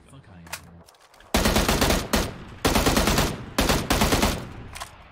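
A sniper rifle fires in bursts of rapid, loud, close shots in a shooter game, several sustained volleys separated by brief pauses.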